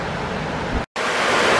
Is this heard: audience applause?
no